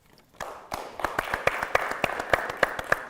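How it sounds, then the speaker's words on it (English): Applause for a raffle winner at a live-streamed event: a small group's claps start after a brief quiet moment and continue as a steady, moderately close patter, with individual sharp claps standing out. "let's give a quick round of applause"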